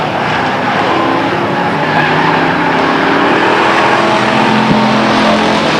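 Race cars lapping at Stockton 99 Speedway in 1999, a loud, dense, continuous engine roar from a pack of cars with faint tire squeal, steady throughout.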